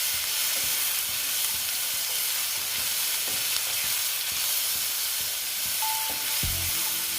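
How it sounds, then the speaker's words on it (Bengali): Grated onion fries with potato in a pan, giving a steady close hiss and crackle throughout with faint stirring, and a metallic clank near the end. "নিয়ে আলুটার সঙ্গে আবার ভালো মতন ভেজে নেব পেঁয়াজটাকে"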